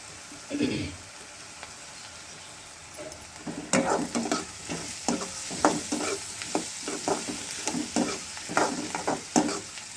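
Ingredients sautéing in a pan with crushed spices, a continuous sizzle under frequent clattering stirs that grow busier and louder toward the end.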